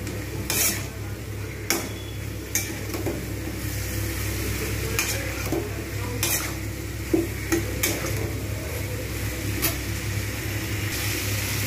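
Cauliflower, potato and prawns with chili powder, turmeric and salt stirred together in a frying pan: a steady sizzle runs throughout, punctuated by regular sharp scrapes and taps of a spatula against the pan.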